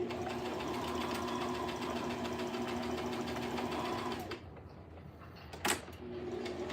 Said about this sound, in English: you saw that back stitching, Lee?